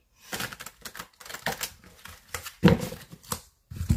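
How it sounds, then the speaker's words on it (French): Tarot cards being shuffled during a reading, a run of quick papery slaps and riffles in irregular bursts, close and fairly quiet, with no speech. "On va brasser les cartes."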